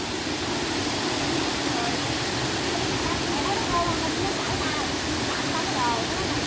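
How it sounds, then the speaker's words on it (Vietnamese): Water of Thanh Long stream on Núi Cấm rushes steadily, a dense, even hiss and roar that fills the whole stretch without pause, close and fairly loud. "Suối Thanh Long đẹp quá cô chú ơi, nước đang chảy."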